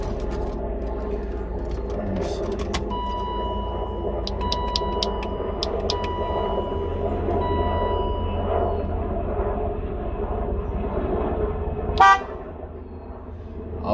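A short, loud burst of car horn honking near the end, from a BMW E36 indoors with the engine off, after steady background noise with some clicks and rustling.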